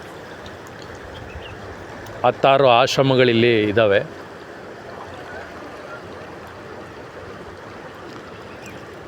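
The Ganga river at Rishikesh, swollen after rain, flows as a steady broad rushing wash throughout, with someone briefly speaking over it near the start.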